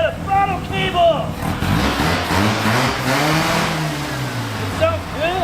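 An old Mazda rotary pickup engine with a Holley carb revs loudly and close, the pitch swelling up and falling back in repeated throttle stabs, with a voice talking over it.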